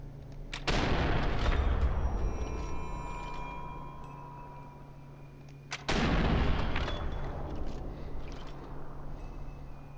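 Two heavy sniper rifle shots in the video game Sniper 4, one near the start and another around the midpoint, each a loud booming crack that rolls into a long decaying echo over steady game ambience.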